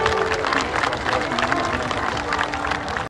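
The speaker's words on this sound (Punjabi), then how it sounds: "ਇਹ ਤਾੜੀ ਉਹਦੇ ਨਾਲ ਹੀ ਮਾਰ ਲਓ ਮਾਰ ਲਓ" A crowd claps for a singer at the Saras Mela stage, a dense, continuous wash of applause with some voices mixed in.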